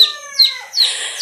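A backyard chicken gives several close, loud, strained clucks and calls in quick succession, with no talking around them.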